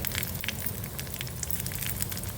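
Dry red chillies crackle and sizzle in hot tempering oil, a steady close hiss with scattered pops throughout and no talking.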